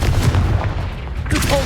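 A Confringo explosive spell goes off in the Hogwarts Legacy video game, producing a loud, close, booming blast with a deep rumble that carries through the whole brief moment.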